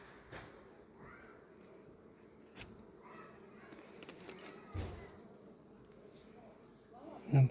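Honey bees buzzing around an opened hive during frame inspection, a faint steady hum with occasional closer buzzes and handling knocks, and a person talking quietly at times.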